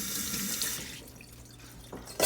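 Tap water runs into a kitchen sink as hands are rinsed clean of egg while baking a pumpkin pie, a steady close hiss that thins out and then surges again at the end.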